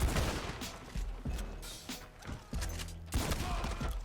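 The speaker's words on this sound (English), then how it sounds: "I'm just gonna go in guns blazing. I love shooting." Rapid bursts of gunfire in the online Western shooter Red Dead Online, several sharp shots and volleys in quick succession, loud and close with short gaps between them.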